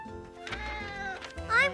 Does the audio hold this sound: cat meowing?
yes